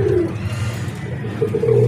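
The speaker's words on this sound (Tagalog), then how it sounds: "nagpakain na ulit tayo ng ating mga ibon" Racing pigeons, breeders and long-distance flyers, coo softly and steadily at close range during an early-morning feeding, with low rolling calls continuing through the short stretch.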